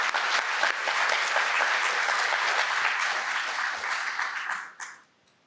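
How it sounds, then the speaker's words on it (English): A JuliaCon conference audience applauds steadily, a dense wash of many clapping hands that holds for several seconds before thinning out and stopping, with no talking over it. "So a round of applause for them."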